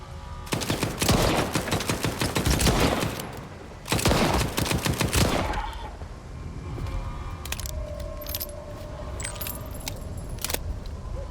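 Gunfire in the shooter STALKER 2: dense bursts of rapid automatic fire with bullets landing all around, two long loud volleys followed by quieter scattered impacts and pings.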